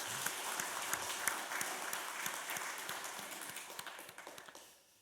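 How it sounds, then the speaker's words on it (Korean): A church congregation applauds its praise team, a steady wash of clapping at moderate distance that gradually fades out near the end. "박수 한번 해드리겠습니다"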